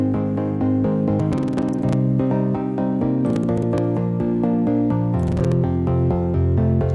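A layer of synth chords in FL Studio holds dense, sustained harmonies at steady loudness. Bright, fizzy swells rise at regular intervals over a low, rich bed, with no voices.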